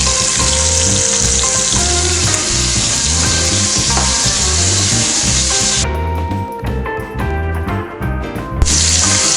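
Pork chops frying in a pan for a Sunday dinner, a loud continuous crackling sizzle with spitting fat close up, briefly dipping partway through before surging again, no voices over it.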